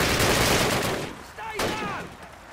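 Call of Duty gunfire, a loud burst of shots at the start that fades into quieter distant crackle and a faint whine.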